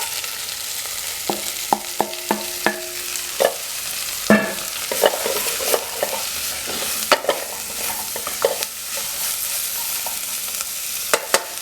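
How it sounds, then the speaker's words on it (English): Spinach sautés in a pan still holding tomato juices, a steady sizzle broken by clinking and scraping as a utensil stirs, with sharp taps against the pan and hissing bursts. "I'm going to just saute it,"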